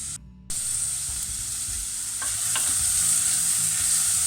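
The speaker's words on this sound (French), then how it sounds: "j'ai mis mes oignons et mon ail et je fais faire revenir le tout" Onions and garlic sizzle steadily in a hot pan, a bright continuous frying hiss with occasional scrapes and clinks as a utensil stirs them, close up and without talk, growing slightly louder as it goes on.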